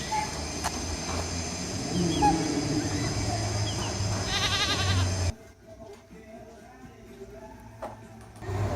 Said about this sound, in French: Ici des faux canards qui font des bruits très rigolos.